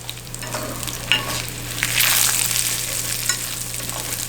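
Dried shrimp, anchovies and bonito flakes frying in oil in a pot for garlic ramen broth, a close, steady sizzle with a low hum beneath and occasional sharper crackles and stirring scrapes, with no talking.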